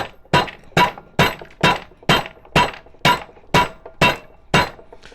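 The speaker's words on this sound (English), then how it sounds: "take the end of the hose, put it on something hard, and bash it with a hammer" A hammer bashes the end of a rubber hose laid on a hard surface, landing about ten sharp, close impacts in a steady even rhythm, each a bright crack with a short ringing decay, with no talking.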